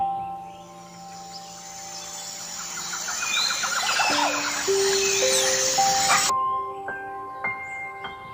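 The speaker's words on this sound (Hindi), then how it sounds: "सूरज की सुनहरी किरणें जब हरे भरे जंगल में फैलीं, तो चहचहाट से पूरा वातावरण गूंज उठा।" Several birds chirp and twitter in a green forest at sunrise. Bright, overlapping calls rise and fall steadily across the scene, later joined by a sequence of clear, sustained tonal notes.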